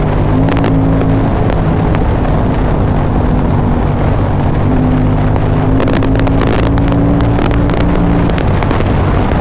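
A 2005 KTM 950 SM supermoto motorcycle engine drones steadily while riding, loud and close, under heavy wind buffeting with sharp crackling gusts and no talk.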